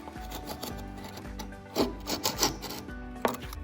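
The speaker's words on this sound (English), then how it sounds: "We're getting a lot of success with this little Dremel and a wire brush, and just wire brushing this whole area" A small Dremel rotary tool fitted with a wire brush scrubs across an FJ40 hard top during restoration, a steady buzzing rasp with louder scraping bursts near the middle and toward the end, no voices.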